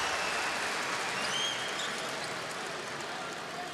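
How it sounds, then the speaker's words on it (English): A basketball crowd in an arena roars and cheers during a Serbia v Georgia EuroBasket 2025 qualifier in Belgrade, a dense continuous wash of noise that holds steady and eases only slightly. "you can hear the cheers he's getting from the crowd at the moment."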